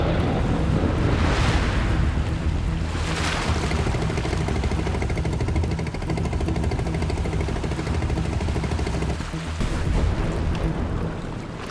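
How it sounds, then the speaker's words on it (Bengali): Storm wind roars over the turbulent Padma river in Bangladesh, with waves slapping and a boat engine droning steadily underneath; loud, continuous buffeting with gusty swells and no voices. "যেভাবে ঢেউ আর ঝড় হাওয়া বইছে"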